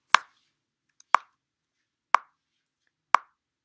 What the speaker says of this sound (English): So I hit record, and I'm going to hear 4 clicks